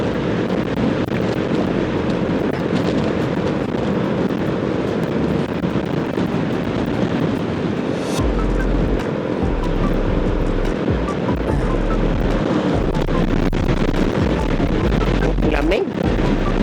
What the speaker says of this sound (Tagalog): Medyo mahangin kasi.